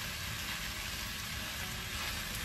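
Chinese rice with soy sprouts sizzling in a frying pan, a steady, close, hissing fry with no break and no talking.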